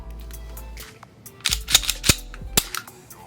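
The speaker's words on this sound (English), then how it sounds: "it's a really cool gun to shoot. Very little recoil." A Bond Arms Bullpup9 9mm bullpup handgun fires a handful of sharp, close shots in an uneven sequence, with mechanical clicks between them and no talk.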